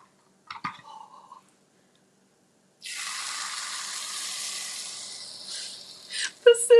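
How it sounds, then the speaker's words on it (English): Pancake batter poured onto a buttered griddle, breaking into a steady, bright hiss of sizzling that holds for several seconds after a short quiet pause, with a few clinks and a voice near the end. "So I'm going to pour our pancake into the buttered griddle."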